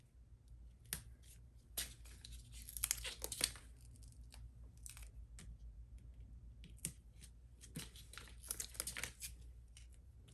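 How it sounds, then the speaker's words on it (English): Foam tape being handled and applied to the back of a scalloped paper ivy leaf card, with close crinkling, tearing and snipping-like crackles in scattered bursts over a low steady hum. "I'll start applying foam tape to the back of the scalloped area."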